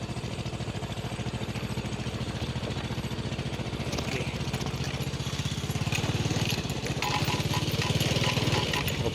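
Small motorcycle climbing a steep, dry dirt path beside oil palm trees, ridden one-handed; its engine chugs steadily and close throughout, with a rapid pulsing beat that grows slightly louder near the end.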